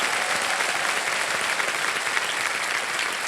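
Studio audience on the KBC quiz show applauding, a dense, loud, continuous roar of clapping sustained at an even level throughout, with no voices over it.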